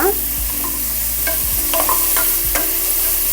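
Chopped tomato tipped into a frying pan for beetroot kurma and stirred, a steady sizzle with a few sharp spoon scrapes and knocks against the pan, close and alone with no talk.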